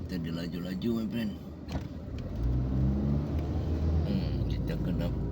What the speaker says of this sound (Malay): Kereta dia laju-laju my friend